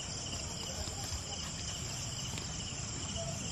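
Insects chirp in a dense, continuous, high-pitched chorus at night on a farm, steady throughout with no pauses.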